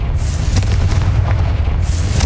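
Confringo exploding curse cast in Hogwarts Legacy, heard as a loud, continuous rumbling blast with deep low-end boom and crackling bursts throughout, close and dense, with no talk.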